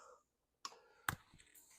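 Cutters snipping electrical wire during a generator inlet and interlock install, two short sharp metallic clicks close by, separated by near silence, the second one louder.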